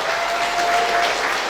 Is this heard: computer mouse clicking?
no